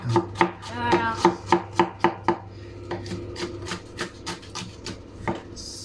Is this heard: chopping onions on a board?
yes